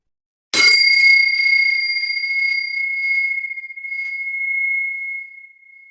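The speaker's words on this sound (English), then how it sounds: "bringing a gentle attention to the sound of this bell" A single struck bell rings once with a clear, pure tone that rises quickly and then fades slowly over several seconds in an otherwise silent room.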